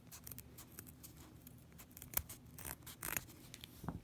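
Scissors snipping through fabric a quarter inch from a stitched seam on a bag corner, a quiet close series of irregular crisp cuts and rustles.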